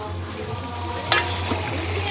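Food frying in a pan at home as someone stirs it with a metal spatula, a soft steady sizzle with a few brief scrapes over a low hum.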